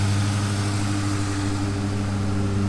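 A Fox body race car's freshly installed engine idles steadily and close by, a continuous low rumble with a smooth, even tone and no talk over it.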